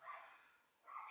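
Two short, faint dog barks, one at the start and one at the end, heard at a distance with quiet between them.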